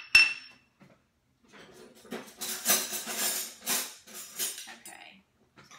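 Pad thai with shrimp, peanuts and chopped cilantro is tossed in a pan, a sharp clink of a utensil and then a run of scraping, clattering mixing sounds, close and moderately loud.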